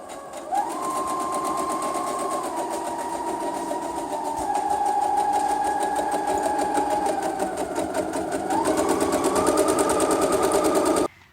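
A sewing machine runs steadily, its needle hammering in a fast, even rhythm as the motor pitch shifts slightly, loud and close, then stops.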